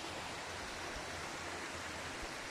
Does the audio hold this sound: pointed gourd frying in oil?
no